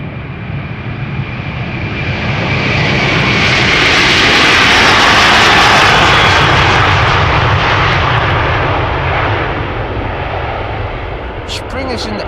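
A jet airliner takes off from the Polderbaan runway at Amsterdam Schiphol, its engine roar building to a loud, broad peak midway and then falling back as it climbs away.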